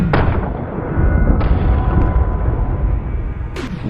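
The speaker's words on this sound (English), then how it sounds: "All right, firing." Rifle fire at long-range metal targets outdoors: one sharp, loud shot with a booming tail rolling on, a second crack mid-way and another near the end, no talk.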